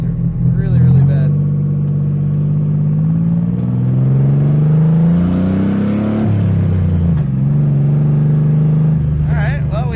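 A Datsun car with very bad brakes runs and drives, its engine droning loudly and rising in pitch as it revs through the gears, with a truck-like rumble throughout.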